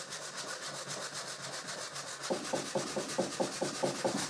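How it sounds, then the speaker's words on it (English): Fine grit sandpaper rubs across a wood display cabinet, first as a soft continuous hiss, then as a quicker run of about eight rhythmic back-and-forth strokes, close and fairly quiet with no voices. "now I use fine grit sandpaper."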